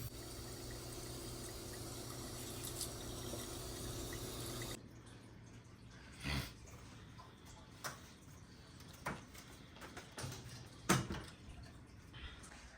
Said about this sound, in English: we're just rinsing it out right now